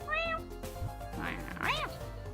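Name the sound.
person imitating a cat meow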